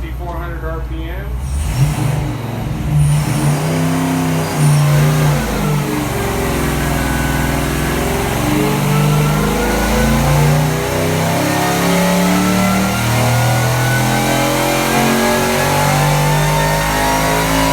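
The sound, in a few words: supercharged LS3 engine revving on the dyno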